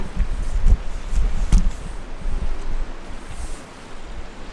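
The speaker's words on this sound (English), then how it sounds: "the sound of the waves is so relaxing" Sea waves washing onto a beach at a very high king tide on a bright day, a steady broadband wash with surges rising and falling, mixed with some wind noise, close and continuous without speech.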